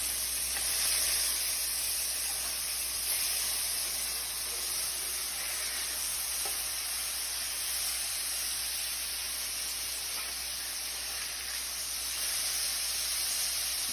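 Burger patties sizzle in a pan, a steady, bright hiss that carries on without pause for the whole stretch, close and even, with no talking.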